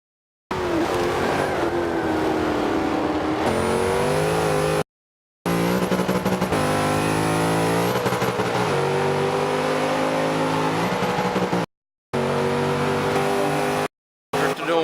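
V8 race cars in a racing video game roar and rev hard, engine pitch climbing and shifting through gears in several bursts separated by abrupt silent cuts, loud and up close.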